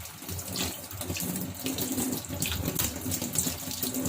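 Water runs from a kitchen tap while a pot is washed for a pasta dish, a steady close splashing stream with small clinks and shifts as the pot moves under it.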